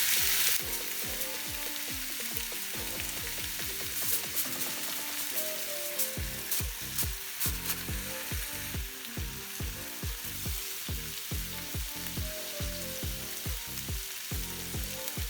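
Marinated chicken satay skewers sizzle in a hot pan, a steady close frying hiss with bright crackles, accompanied by a rhythmic, pulsing musical backing.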